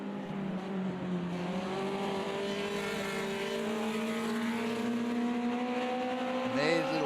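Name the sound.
Formula Junior race cars racing at Monza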